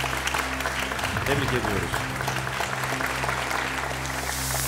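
Audience applause fills a Quran recitation competition hall in honor of a reciter, a steady broadband clatter of many hands running throughout while a host speaks over it.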